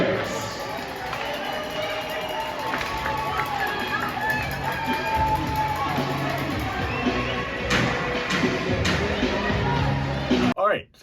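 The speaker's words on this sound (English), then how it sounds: "offer a final round of applause for your Danbury Hat-Tricks" A crowd at a professional minor-league hockey game in an arena cheers and applauds the Danbury Hat-Tricks home team, a loud, sustained roar of voices with an announcer's voice over it, ending abruptly.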